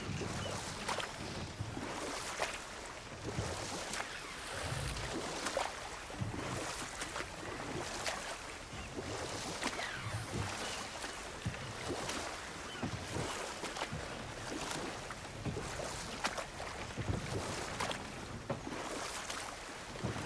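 Rushing waterfall in the video game God of War Ragnarök, a steady broadband roar of falling water with light wind and surf-like wash, continuous and fairly loud with no voices over it.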